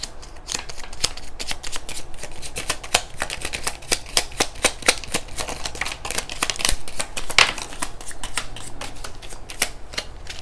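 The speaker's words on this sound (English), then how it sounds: "I'm going to shuffle one more time" Tarot cards being shuffled by hand, a long run of quick, crisp riffling snaps and flutters, close and fairly even in rhythm, with no voices.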